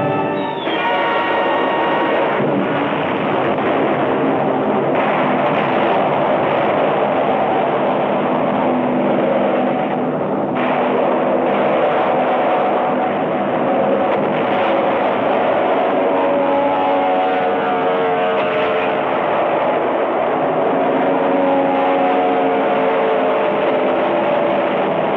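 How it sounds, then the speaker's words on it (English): World War II Japanese land-based fighter and bomber aircraft fly overhead with a continuous, loud, roaring drone of piston engines that holds steady throughout. "Jap land-based fighters and bombers reinforced their sea strength."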